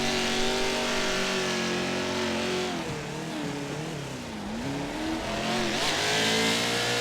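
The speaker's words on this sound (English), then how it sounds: "Back on the throttle now for the top spot" Stadium Super Trucks in the iRacing sim roar under heavy acceleration, several engines blending into a loud, continuous drone whose pitch climbs and dips as the drivers get back on the throttle through a short course section.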